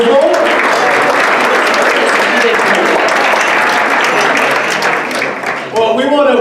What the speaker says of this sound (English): Another round of applause for Esther.